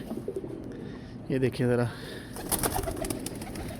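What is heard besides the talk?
pigeons cooing in a loft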